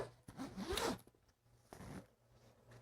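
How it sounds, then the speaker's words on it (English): A K&F Concept camera backpack zipper is pulled open in one longer rasping stroke, then a second short zip follows after a pause. Both are close and clear, with no talking. "unzipping it"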